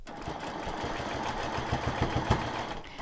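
Home sewing machine quilting a fabric square, a steady rapid stitching whir with regular needle pulses, close and continuous throughout with no talk.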